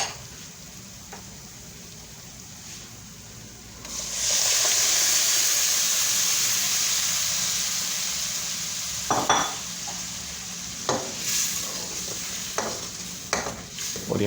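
Tomato paste and spices hitting onions in a hot pan burst into a loud, close sizzle that slowly eases, followed by a few clinks and scrapes of stirring, with no voices.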